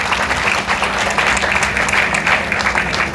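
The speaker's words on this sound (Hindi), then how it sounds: "जोरदार तालियां" Loud, dense applause from a seminar audience in Varanasi fills the room steadily, many hands clapping together without a break.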